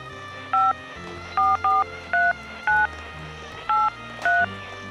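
A telephone number dialed on a keypad: eight distinct touch-tone beeps in an uneven rhythm, clear and prominent over a low background hum.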